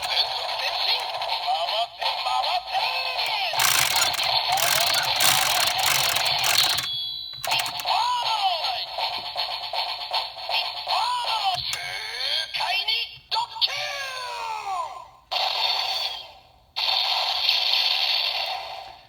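DX Geardalinger toy finishing move set off by spinning the back wheel: ratcheting gear clicks, electronic sound effects, bursts of synthesized music and voice lines that stop and restart, all from a small nearby speaker.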